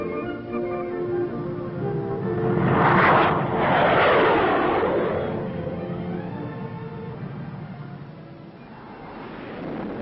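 An A-4 Skyhawk attack jet flies by, its engine roar swelling loudly around three to four seconds as it passes, then easing off into a steady distant drone before rising slightly again at the end.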